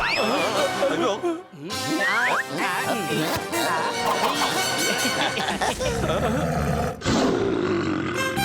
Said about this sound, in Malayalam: അത് സിംഹത്തിന്റെ ശബ്ദമാണ്